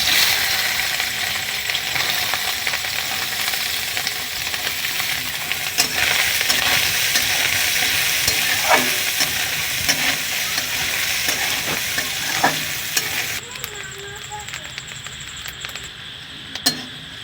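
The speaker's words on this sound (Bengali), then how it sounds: "ঘিটা গরম হয়ে গেছে, নারকেলগুলো লাল লাল করে ভেজে নেব" Coconut frying in hot ghee while being stirred, a continuous bright sizzle with scraping stirring strokes and occasional clinks, close and steady, thinning and quieting near the end.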